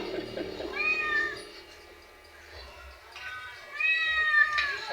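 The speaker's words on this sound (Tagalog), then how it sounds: "ang daming mga pusa na pumupunta dito eh" Neighbourhood cats that wander over to a house give two drawn-out, wavering meows about three seconds apart, close by over low background noise.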